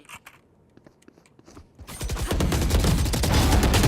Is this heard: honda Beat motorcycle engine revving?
no